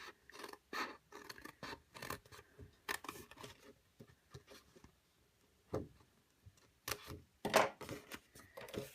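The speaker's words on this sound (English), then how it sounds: "you're going to cut another diagonal like that, and then you're actually going to cut on the score line here" Scissors cut through scored cardstock while a gift bag is being made, giving a series of short, crisp snips and scraping slices in irregular bursts with pauses, close and fairly quiet, with no voices.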